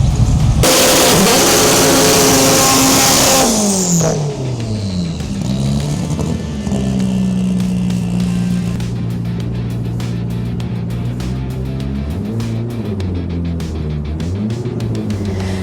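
A loud, high-revving Honda EF Civic drag racing engine roars hard at first, then drops and settles into a rough, pulsing idle with repeated rev blips, close by.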